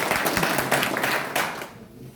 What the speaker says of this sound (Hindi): एक बार और जोर ताली